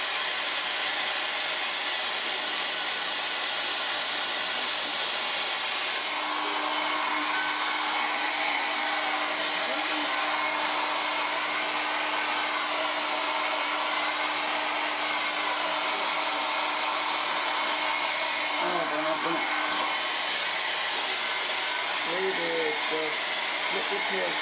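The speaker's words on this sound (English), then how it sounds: "you're probably wondering what hairdryer to use" A hairdryer blows continuously at close range, heating a PlayStation 3 for a yellow-light-of-death repair, with a brief clatter of handling near the end.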